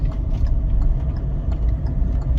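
A car engine runs with a steady low rumble while the car drives in second gear at about 30–40 km/h through a turn. The engine sound stays close and continuous with no voices.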